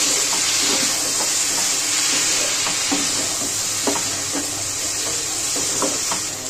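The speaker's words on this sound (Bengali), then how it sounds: "এটা দিয়ে ভালো করে কষিয়ে নেবো টমেটোটা দিয়েও।" Ground spices and grated tomato sizzle and fry in a pan, a steady loud hiss with occasional stirring clinks and scrapes, no voices.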